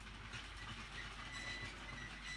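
A LEGO 4.5-volt toy train running around its track loop in the background, a faint steady whir and rattle with light clicking, continuous and even, no voices.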